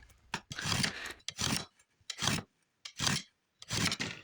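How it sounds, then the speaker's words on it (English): A throwing knife or screwdriver scrapes across picket wood in short, rough strokes, five or six rasping passes separated by brief pauses, close and fairly quiet. "So we just use a throwing knife or a screwdriver, no need to be precise, every ½ inch or so, on all 4 sides, scrape,"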